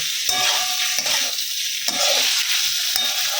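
Vegetables for shukto sizzle in a hot pan while a spoon stirs and scrapes them, with several distinct clanks against the pan over a steady close frying hiss.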